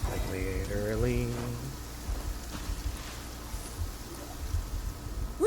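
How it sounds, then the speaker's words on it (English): Rain falls steadily in the video game Genshin Impact, a continuous soft hiss of pattering drops, with a voice speaking briefly at the start. "And it rains, it rains, it rains, it rains, and always seems to be raining here."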